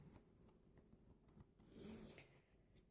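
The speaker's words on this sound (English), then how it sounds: "But she is snoring a little bit." A pet snores softly while napping after a bath, faint rhythmic breaths repeating every half second or so, close and quiet with no talking.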